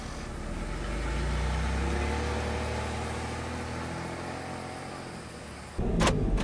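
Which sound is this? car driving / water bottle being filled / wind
car driving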